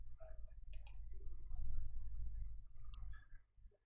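A few crisp computer mouse clicks while setting options in CAM milling software, sharp isolated ticks over a low room hum in a short quiet stretch.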